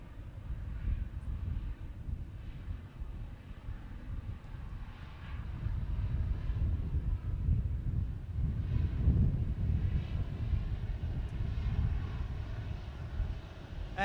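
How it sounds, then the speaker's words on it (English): Qantas QF 127 airliner climbing out after takeoff toward Hong Kong, a low distant engine rumble that swells slightly and stays steady, mixed with some wind noise. "And a rocky climb out for QF 127 to Hong Kong."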